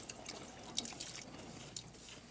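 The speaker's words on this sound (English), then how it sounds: "Now wash the brush one more time." An oil paint brush is washed in liquid, giving soft, faint, close splashes and drips with a few sharper wet flicks spread through the moment.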